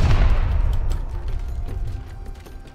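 A single heavy AK rifle shot in Rust booms loudly at the start and rolls off into a long echoing tail with faint mechanical rattles.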